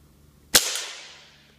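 A Crosman 2240 CO2 air pistol on a 12g cartridge fires a single close, sharp crack with a short decaying tail.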